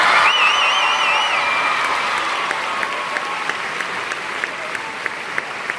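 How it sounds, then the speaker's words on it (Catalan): Applause and cheering from a school concert audience for the children's music teachers, a broad dense crowd clapping that slowly fades, with a few whistles early on and scattered sharp claps toward the end. "Un fort aplaudiment per ells"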